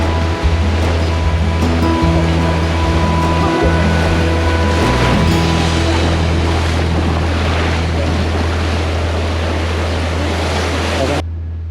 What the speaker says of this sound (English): The seas are really rough.